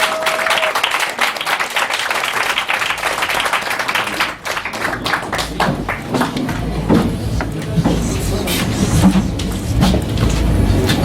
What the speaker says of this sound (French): Une bonne main d'applaudissements pour Jacques, s'il vous plaît!